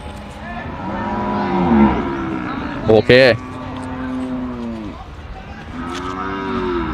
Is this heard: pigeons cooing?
no